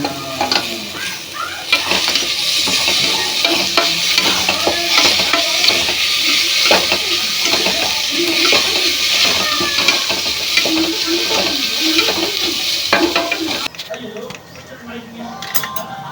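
Sliced onions and whole chilies sizzle steadily in a hot pan for vegetable biryani, with a spoon repeatedly scraping and stirring close by. Talk continues over the cooking.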